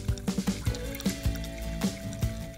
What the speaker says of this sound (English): Pop that sucker open and pour it into the balloon.